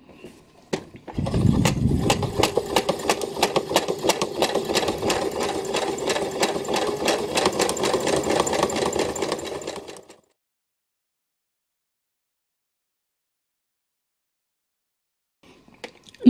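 A sewing machine stitches through four layers of fabric and two layers of batting with a size 90 needle for a fabric Easter basket: a loud, fast, even whirr for about nine seconds that stops abruptly into near silence.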